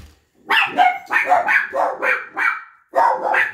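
Dogs bark in a quick, close, loud series of about eight barks, with a short pause before the last few.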